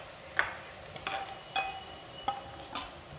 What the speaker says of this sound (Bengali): সব মিশিয়ে 2 মিনিট মতন নাড়িয়ে নেব।